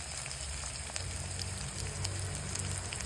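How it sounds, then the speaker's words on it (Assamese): Chopped onions frying in a pan of hot oil, giving a steady, close, even sizzle and crackle with no pause and no voices. "পিঁয়াজখিনি দিয়া হ'ল, অলপ ৰঙচুৱা হ'ব লাগিব"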